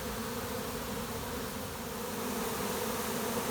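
A honey bee swarm being caught from a hive fills the air with a dense, unbroken buzzing drone, steady and close, with no voices over it.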